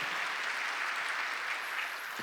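Sustained applause from a church congregation during a Wednesday worship service, a dense, steady clatter of many hands filling the room for a couple of seconds without talk.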